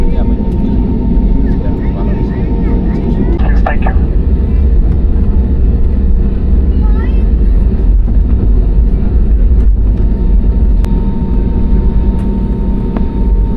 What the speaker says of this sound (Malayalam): നമ്മുടെ മുന്നിലൂടെ ഇപ്പോൾ ഒരു ഫ്ലൈറ്റ് ടേക്ക് ഓഫ് ചെയ്യാൻ പോകുന്നുണ്ട്.